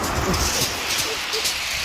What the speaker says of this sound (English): That's a 3 metre wall of water there.